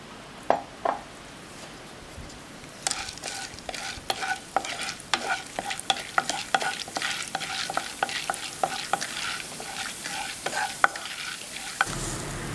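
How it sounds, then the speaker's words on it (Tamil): Chana dal fries in hot oil while a utensil stirs it, the sizzling crackle beginning around three seconds in and continuing steadily with quick scraping clicks, close and moderately loud, then cutting off sharply near the end. "எண்ணெய் சூடாயிடுச்சு, கடலைப்பருப்பு போட்டுக்கிறேன்"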